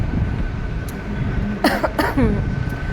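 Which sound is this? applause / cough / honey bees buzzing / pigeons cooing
cough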